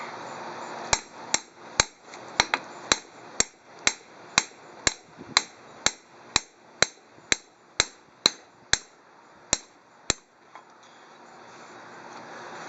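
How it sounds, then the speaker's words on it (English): Four-pound mallet striking an axle bearing race on a 14-bolt axle, about twenty sharp metallic hits in an even, steady rhythm, loud and close with nothing else over them. "I take my 4-pound mallet evenly. You can run a hydraulic press down on this, or you can just hit this"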